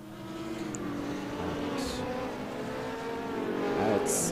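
GT3 race cars lapping the Nordschleife in a racing game, a steady layered engine drone of several cars at moderate level, with faint brief electronic blips.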